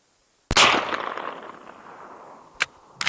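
A .45-70 rifle fired with full-power ammunition through a Resilient Ramblin Man .46 caliber suppressor, one sharp muffled crack with a long fading tail, then two fainter sharp clicks afterward.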